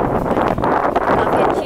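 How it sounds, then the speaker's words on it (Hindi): Strong wind blows steadily into the microphone along a walking path near the 64 Yogini temple at Khajuraho, a constant loud buffeting rush with slight rustling for the whole span. "काफ़ी अच्छी हवा चल रही है"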